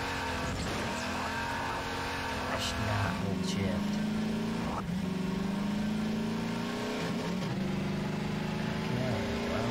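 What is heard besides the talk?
loud car driving in video game Garry's Mod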